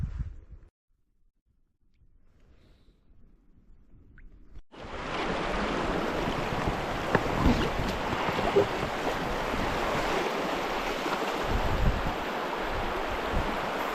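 A shallow river in an Arctic canyon wilderness rushes close by as a steady, broad wash of flowing water that starts suddenly after a quiet, muffled opening and stays loud and continuous.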